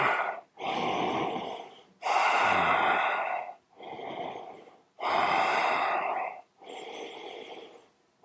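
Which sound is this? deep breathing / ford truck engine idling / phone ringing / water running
deep breathing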